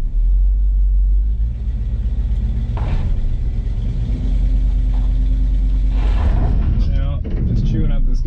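A 1985 GMC Sierra C20 square-body truck rumbles loudly close by as its tires spin on a gravel driveway, a heavy, steady engine drone with rising surges and gritty scraping, while someone talks over it.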